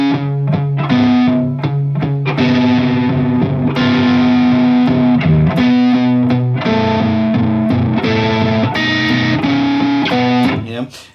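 Distorted electric guitar slowly plays the opening riff of a track, with loud, gritty sustained notes and chords broken by short pauses and string scrapes.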